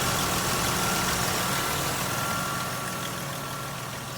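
A 2002 Ford F-150 pickup with 334,000 miles and small exhaust leaks, its engine idling in a steady, close, even rumble with no voices.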